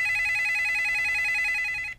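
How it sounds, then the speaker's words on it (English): Telephone ringing with a steady electronic trill that holds for about two seconds and then cuts off, loud and alone without talk. "the phone was ringing"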